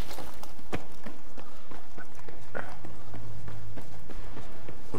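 Running footsteps in the Battlefield 3 video game, a rapid series of sharp thuds at a quick, even pace, mixed with game background sounds.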